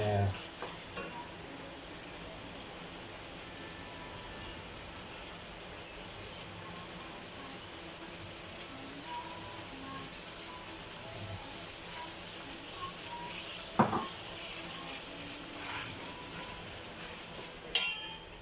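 Pechay and ground round sizzle steadily in a frying pan with oyster sauce and sesame oil, a soft, even crackling hiss throughout, with a couple of brief scrapes or clinks from stirring.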